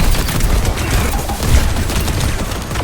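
Rapid gunfire and grenade explosions from the Overwatch shooter game, a dense barrage of booms and shots that continues without a break for the whole stretch, loud and close.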